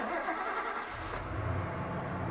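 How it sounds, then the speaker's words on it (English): A car engine in the video game Shibuya Scramble revs up and holds a steady, rising drone, moderately loud and continuous, no voices. "hear the sound of an engine revving outside"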